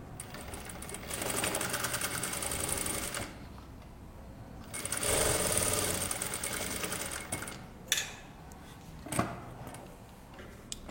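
A sewing machine stitches fabric in steady mechanical runs of rapid needle clatter, pausing between bursts, with a few sharp clicks and knocks later on; no talking.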